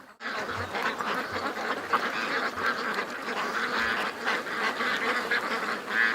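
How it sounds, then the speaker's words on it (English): A very large duck quacks repeatedly at close range outdoors, its calls running nearly continuously over dense ambient background noise with no talking. "What a big duck. Look at the size of that thing."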